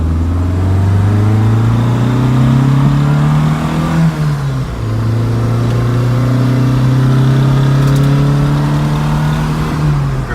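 A 1971 Lancia Fulvia drives with its window down. The engine drones loud and close as it pulls, dips briefly at a gear change and then climbs again, with wind and road rush filling the cabin.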